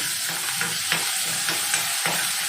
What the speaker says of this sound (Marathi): थोडासा तेलात परतून घ्यायचं आपल्याला कांदा